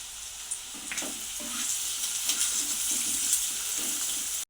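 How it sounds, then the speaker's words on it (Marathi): Carrots and spring onion sizzle steadily in very hot oil in a pan, a continuous close crackling hiss broken by soft scraping and stirring knocks. "चांगलं तेल गरम झालेलं आहे त्याच्यामध्ये कडकडीत आपण हे चांगलं भाजून घ्यायचं आहे बघा याच्यामध्ये टाकून घेऊया गाजर पातीचा कांदा"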